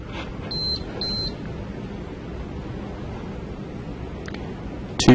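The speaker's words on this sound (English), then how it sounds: "Two high-pitched beeps" A pachymeter gives two short high-pitched electronic beeps in quick succession, then a faint hiss with a few tiny clicks and a brief knock at the end.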